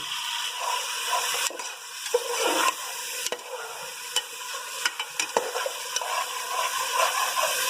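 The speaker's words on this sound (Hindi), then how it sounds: "अब 6 टमाटर बारीक कटे हुए इसके अंदर डाल देंगे। इसको नरम होने तक पका लेंगे।" Six finely chopped tomatoes cook and soften in a pan for lauki sabzi, a steady close sizzle with repeated stirring scrapes and clicks running throughout, no voices.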